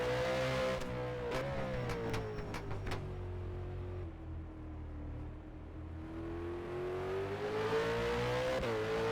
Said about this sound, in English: Just checking we can hear the cars now.